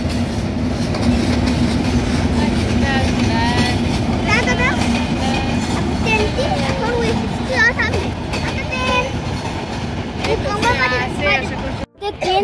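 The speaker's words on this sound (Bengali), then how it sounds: "ট্রেন দেখা শেষ ট্রেন চলে গেছে" A train rolls past near Joydebpur railway station, a loud, close rumble with clattering wheels, and people talk over it until the noise cuts off near the end.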